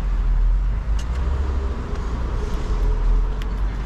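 A Mercedes with a V8 engine idles and rumbles with a deep, steady low drone as it is maneuvered, close by and fairly loud, with faint clicks above.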